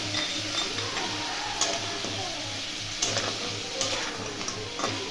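Crab pieces frying in a pan for a Bengali crab curry, with a steady close sizzle and faint ticking and tapping clicks scattered throughout.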